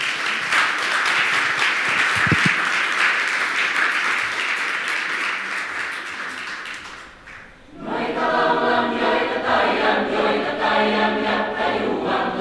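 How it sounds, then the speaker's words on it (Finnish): A hall audience applauds a school chamber choir, sustained dense clapping that briefly dips and then swells again into fuller, more textured applause, with no speech over it. "Annetaan aplodit"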